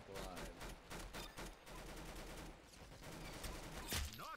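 Rapid gunfire bursts from the Roblox shooter Arsenal, dense and repeated across the whole stretch with a sharper burst near the end, amid game sound effects.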